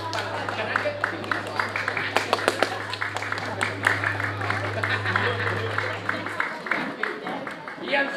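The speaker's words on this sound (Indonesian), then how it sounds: "Kemudian lalu tepuk tangan, terus tepuk tangan" Audience applause at a Balinese drama gong theatre performance: dense, steady clapping from a crowd over several seconds, with a low electrical hum underneath and voices mixed in.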